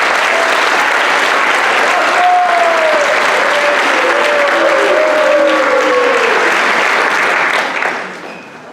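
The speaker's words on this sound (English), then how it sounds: "please stand for a quick round of applause." A large audience at a school scholastic honors night gives a sustained round of loud, dense applause that holds steady for several seconds and then quickly dies away at the end.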